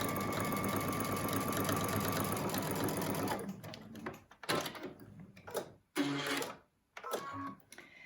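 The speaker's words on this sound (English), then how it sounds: "you're going to sew close to the inner side of this seam allowance" A sewing machine stitches the seam of a surgical mask in one continuous run, then stops and restarts in a few short bursts, close and without talk.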